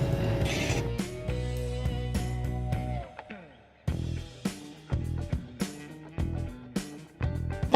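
A Zippy electric nail file drill runs at about half speed, and its whirring motor comes in repeated bursts as the bit is worked on and off. Sharp clicks and short pauses fall between the close, fairly quiet runs.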